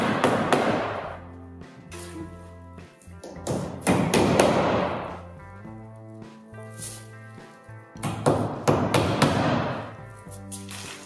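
Hammering while assembling a flat-roof Tendille metal garden shed: bursts of heavy repeated thuds with a ringing metallic resonance, separated by short quieter gaps.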